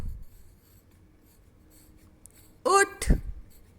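A sentence written on a board with chalk or a marker, faint scratching strokes ending in a sharper squeak and tap, with a teacher's voice talking quietly in the background.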